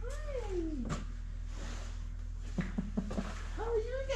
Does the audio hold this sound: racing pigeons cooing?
no